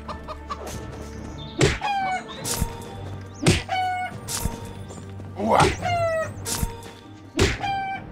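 Chickens in the Divinity II video game cluck repeatedly in short, close bursts over a busy game soundscape, with a few dull thunks between the calls.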